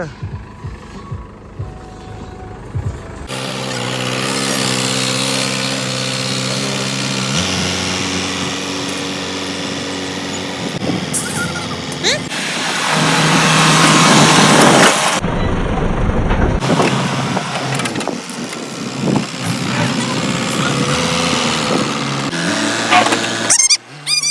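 A JCB excavator levels soil with a loud, steady diesel engine drone that swells and strains midway, then gives way to a brief break and uneven clanking and revving toward the end, heard close with no clear talk.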